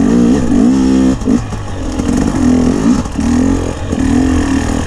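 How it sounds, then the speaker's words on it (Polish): A motorcycle engine revs loudly and close, its pitch rising and dipping in repeated throttle bursts against a constant rumble. "Jak ja kocham ten motor, Jezu."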